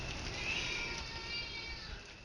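A domestic cat meows and cries in a drawn-out, wavering yowl, moderately loud and somewhat distant, over a steady background hiss.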